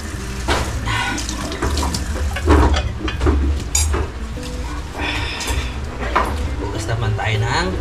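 Tap water runs steadily into a sink while dishes are washed, with a continuous splashing rush and occasional clinks, as people talk over it.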